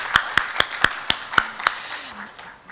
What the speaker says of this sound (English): Let's give them another round of applause this afternoon.